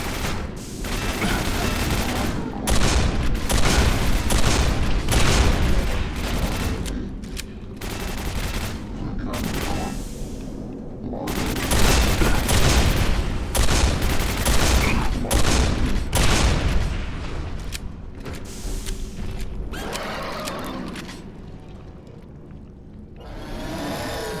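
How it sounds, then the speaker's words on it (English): Repeated shotgun blasts in Quake 4 fire in dense clusters of loud, sharp bursts separated by brief gaps, with a steady whirring drone underneath. "let's use a shotgun"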